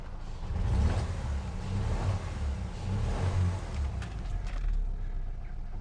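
Car engine revving after a coil pack swap, a faint uneven rumble that swells and eases in several gentle pulses, heard from a short distance with no talk.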